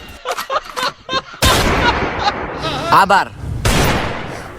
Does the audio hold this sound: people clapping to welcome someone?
no